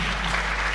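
Audience applause at a pitch event, a brief steady burst of dense clapping lasting under a second.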